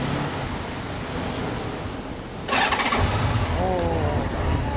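A 2004 Honda Valkyrie Rune 1800cc flat-six motorcycle engine fires up partway through and runs with a deep rumble, under gusty wind noise and people talking.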